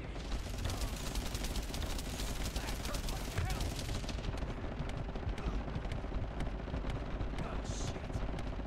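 Video game gunfire pours out in dense, rapid bursts during a boss fight, loud and continuous for the first few seconds, then thinning into scattered shots and effects.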